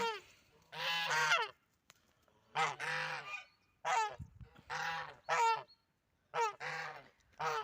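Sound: geese honking

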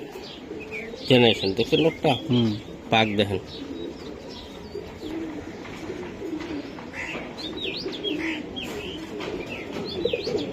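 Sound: tournament racing pigeons cooing

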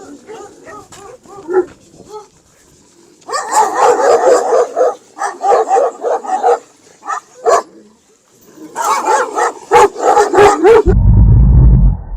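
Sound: shepherd's dogs barking

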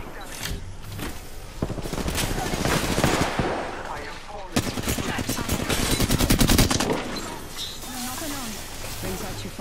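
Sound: gunfire in Apex Legends video game

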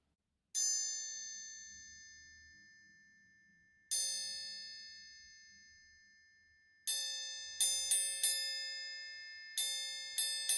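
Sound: triangle being struck

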